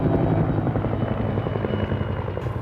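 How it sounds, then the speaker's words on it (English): Military helicopter gunships pass low over city rooftops in a war zone, their rotors producing a loud, continuous rapid thudding chop that fills the whole moment. "Ahead of us, helicopter gunships swooped over the rooftops."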